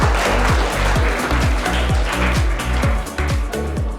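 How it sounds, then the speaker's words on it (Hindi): An audience claps loudly and continuously for a third-prize winner at an environmental event, with a steady thumping bass beat pulsing beneath the applause throughout. "एक बार श्लोक के लिए बहुत जोरदार तालियां हो जानी चाहिए"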